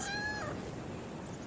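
A single drawn-out cat meow, high and tonal, sounds close for about half a second before fading into steady background hiss.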